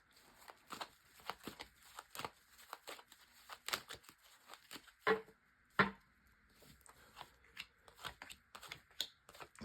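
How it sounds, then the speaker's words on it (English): Tarot cards being shuffled up close make quiet, irregular riffles, slaps and rustles in short bursts with gaps between them, and no one speaks. "So first of all, a good shuffle."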